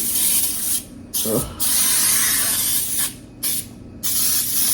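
Several short bursts of cooking spray hiss in quick succession into a dish, loud and close, with brief pauses between them.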